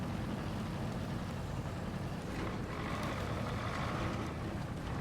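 A truck engine labours steadily in the Mudrunner off-road game, a faint continuous low rumble with a mechanical whine and no voices.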